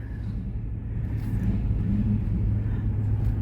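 A hot rod cruises around during a road tour, a steady low engine rumble idling and rolling along without anyone talking.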